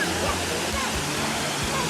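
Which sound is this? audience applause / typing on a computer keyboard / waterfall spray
waterfall spray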